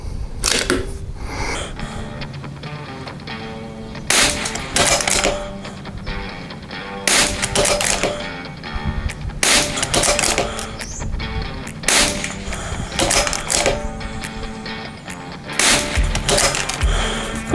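Rimfire target rifles at an outdoor range fire a long irregular series of sharp, snappy cracks close by, each quick and clipped over a steady background hiss, with no voices.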